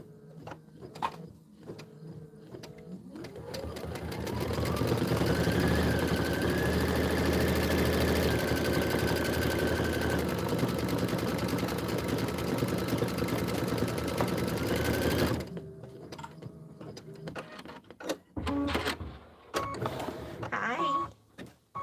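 A sewing machine stitches a Kimberbell Home Sewn Volume 2 embroidery design, its motor ramping up to a sustained whirring hum for about ten seconds before stopping, followed by quieter handling noises.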